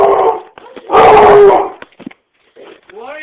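A dog lets out a loud, close bark followed by a few short yips and a faint whimper, with brief pauses between the sounds.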